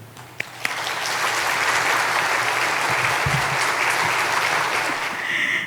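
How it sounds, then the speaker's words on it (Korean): A church congregation applauds in welcome, a dense, steady roar of many hands clapping that rises quickly after a couple of sharp early claps and holds strong to the end, with no talking over it. "감사 혹은 격려 또 은혜의 나눔의 박수로 맞이하겠습니다"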